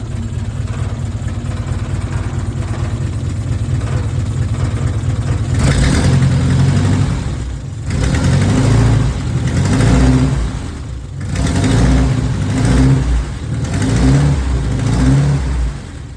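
A carbureted turbo engine in a 1987 Mazda B2000 drift truck idles loudly, then revs in several swelling bursts that drop back between, close to the microphone.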